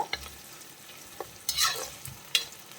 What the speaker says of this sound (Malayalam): ഈ പച്ചമുളക് നന്നായിട്ടൊന്ന് മുരിഞ്ഞ് വരട്ടെ